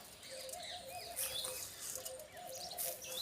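Sparrows chirping in the morning while grain is scattered for them, a quiet cluster of repeated high tweets and calls with soft background noise.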